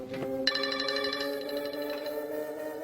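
An electronic phone ringtone chimes in a repeating melodic pattern, clear and moderately loud, continuing steadily with no voices.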